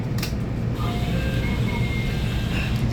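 Continuous low rumble and rattle of a moving train heard from inside a carriage on a rural journey in Japan, steady and fairly loud, with faint squeals and no speech.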